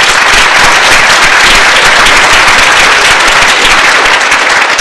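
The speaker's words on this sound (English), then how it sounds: "Please give him a round of applause." Audience at a candidates' closing-statements event applauding, a loud, close, dense and unbroken roar of clapping hands throughout.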